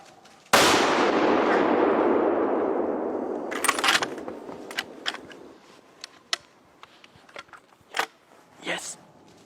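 One loud, sharp gunshot rings out during a driven hunt and fades through a long decaying tail, then scattered clicks and knocks follow while people talk quietly.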